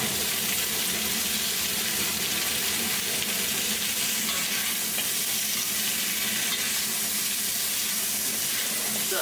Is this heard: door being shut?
no